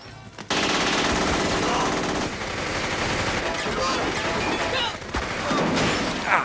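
Sustained bursts of rapid automatic gunfire from a police shootout scene in an Argentine film rattle continuously, loud and dense, with overlapping shots and no pauses.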